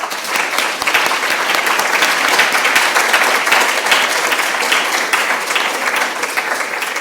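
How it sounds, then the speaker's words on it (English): An audience applauds speakers at an institutional policy session, a dense, steady wash of many hands clapping, loud and close, holding at an even level for the full stretch. "please, a round of applause for our speakers"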